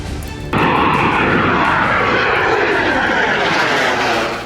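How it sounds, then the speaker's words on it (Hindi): A Jaguar ground-attack fighter jet takes off from an airstrip, its engine roar swelling in abruptly after a quiet opening and then holding loud and dense, rumbling close by for the rest of the clip before easing slightly at the end. "जगुआर फाइटर जेट भी एयर स्ट्रिप से उड़ान भरता दिखाई दिया।"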